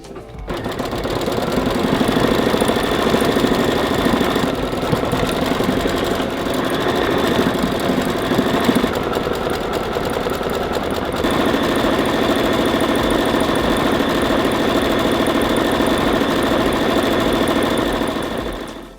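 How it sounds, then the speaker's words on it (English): An embroidery machine sews satin stitches on an ice cream appliqué, running as a steady, loud mechanical whir with a fast stitching buzz that continues alone for the whole stretch, shifting slightly in tone partway through. "We're going to go ahead and sew stitch sequence 8 to do the satin stitches"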